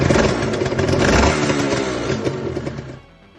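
A Honda NSR 250R two-stroke motorcycle engine revs loudly and continuously, a buzzy rising-and-falling drone close by that fades down near the end, with no talking.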